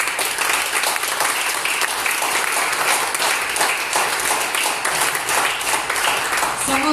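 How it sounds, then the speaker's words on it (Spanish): Steady applause from a church congregation, hands clapping continuously at even volume throughout, with no speech over it. "Dale un aplauso a papá"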